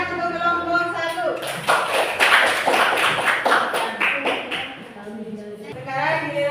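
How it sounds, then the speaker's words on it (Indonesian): A classroom group claps for group one during an Islamic jurisprudence lesson, a dense burst of many hands clapping that swells and then fades, with voices mixed in. "tepuk tangan untuk kelompok 1"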